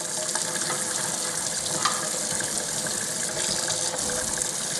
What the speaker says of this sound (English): And we rinse our ladle off.